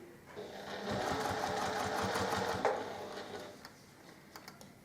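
A sewing machine runs close and steady while stitching a self-binding block mat, its rapid mechanical whir rising for about two seconds before slowing, followed by a few light ticks and clicks.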